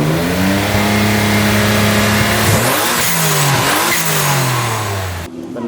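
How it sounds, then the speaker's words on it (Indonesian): Modified Mitsubishi Xpander swapped with a VR4 V6 twin-turbo engine of about 270 horsepower, revving loudly and close by with rising and falling pitch sweeps across the clip, cutting off just before the end. "Jadi pakai mesin V6 twin turbo."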